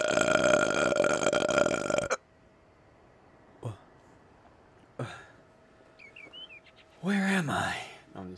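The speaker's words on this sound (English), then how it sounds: "I literally just was burping as soon as I fucking spawned in" Loud, drawn-out burping bursts out at the start, followed by quiet stretches with faint scattered clicks and a short chirping sound, then another strained, throaty vocal burst near the end.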